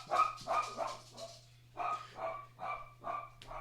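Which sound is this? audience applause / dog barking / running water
dog barking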